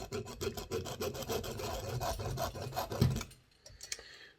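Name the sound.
hacksaw cutting metal spindle of model locomotive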